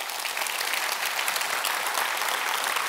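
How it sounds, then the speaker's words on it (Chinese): An audience in a hall applauding a speaker at a company presentation, a dense, continuous wash of clapping from many hands, steady and fairly loud for the whole stretch. "掌声响起吧。"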